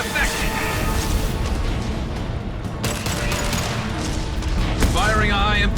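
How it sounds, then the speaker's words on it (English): A high-impact gunshot in the Mass Effect 2 video game, heavy blasts and booming combat noise that carry through the whole stretch, with a character's voice speaking over the fire. "Firing a high-impact shot."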